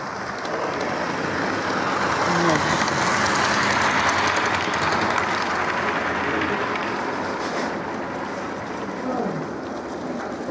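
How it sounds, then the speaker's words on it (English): A goods train rumbles past steadily at close range, a dense continuous roar of wheels and wagons that holds level throughout with no break and no talk. "The goods trains, of course."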